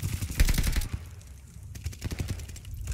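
Burst of automatic gunfire from a Call of Duty Vanguard match, several rapid shots packed into the first second, then scattered shots and explosive thuds at mid loudness for the rest.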